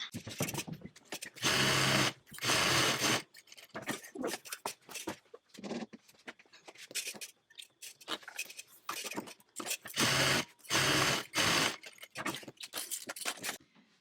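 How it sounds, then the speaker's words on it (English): A sewing machine bastes down both sides of a wave-top tote bag, running in several loud, steady bursts of a few seconds each, separated by quieter handling and shuffling of fabric, with no talking. "I'm going to sew down, baste down this side and baste down that side"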